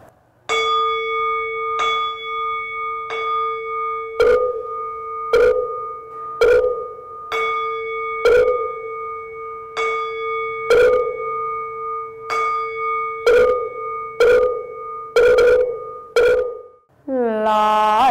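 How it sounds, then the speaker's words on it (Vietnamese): A Buddhist ritual bell rings with a sustained tonal hum, struck repeatedly while a wooden fish knocks in a steady rhythm through about seventeen repeated strikes, ending in a rapid roll of hits. "Thì giờ này bắt đầu chúng ta khai chuông mõ."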